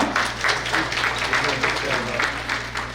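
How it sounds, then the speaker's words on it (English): An audience at a spring brunch event claps together, a dense, even applause from a roomful of people that holds steady at close range for a few seconds, with a low hum underneath. "please join me in giving a big round of applause to Ms. Vivian Pereira"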